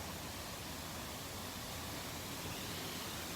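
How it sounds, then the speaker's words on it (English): Steady broadband roar of a waterfall on a creek trail, constant and fairly close throughout, with no voices over it. "This is the waterfall,"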